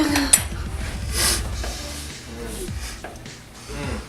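Stirring food in a pan while sautéing, with a utensil scraping and clattering against the pan in short, uneven strokes, close and moderately loud, with brief voices in the background.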